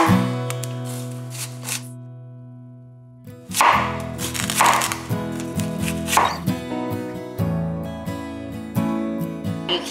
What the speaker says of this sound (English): And then I come from the side and I follow like a rainbow all the way around as I chop it up.